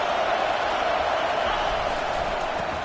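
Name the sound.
crowd cheering in College Football 25 video game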